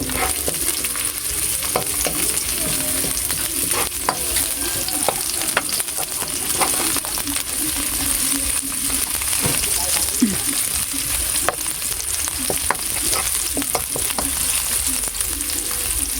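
Chopped garlic and onion fry in a pan of hot oil while cooking sarciado with dried squid. A loud, continuous sizzle runs throughout, with occasional scrapes as the pan is stirred and a faint voice now and then.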